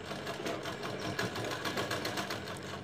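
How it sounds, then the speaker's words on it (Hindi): Sewing machine stitching around the neckline of a matka-neck blouse, a steady, fast, continuous whirring hum with a rapid needle rhythm, close and even throughout, with no talking. "ये इस प्रकार से पलटा करके आप सिलाई लगाएंगे।"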